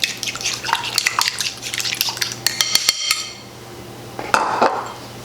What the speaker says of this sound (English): So I'm gonna whisk my egg.